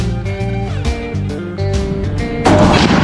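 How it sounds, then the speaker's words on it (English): A rifle shot sets off a tannerite-filled watermelon on a Texas shooting range, heard as one loud, sudden blast late in the moment that swells into a broad roar over steady background music. "got a watermelon full of tannerite. It's gonna blow."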